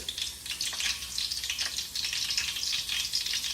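Garlic sizzling and frying in a very hot pot of oil, a steady dense crackle of fine pops running throughout, close and fairly loud, with no talking.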